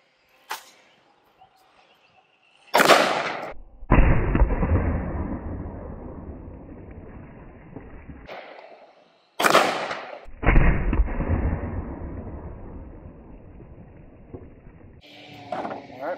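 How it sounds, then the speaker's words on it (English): A rifle firing .223 Winchester Silvertip rounds at targets outdoors gives two loud, sharp shots several seconds apart, each followed by a long rolling boom and echo that slowly fades. "The target on the right I'm going to shoot with the Winchester Silvertips, and the target on the left I'm going to shoot with those 40 grain V-Max projectiles."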